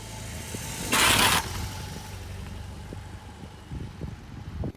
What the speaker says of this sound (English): all the sounds which are coming out from the engine itself and the silencers are all beautiful